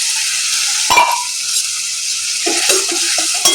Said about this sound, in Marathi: कांदा थोडासा लालसर फ्राय झाला की त्यामध्ये आपण टोमॅटोची जी प्युरी केलेली ती टाकून घ्यायची